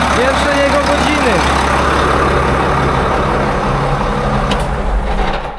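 Steady close idle of a Case IH Magnum 7140 tractor's diesel engine, a continuous low rumble holding level throughout, with a faint brief knock near the end.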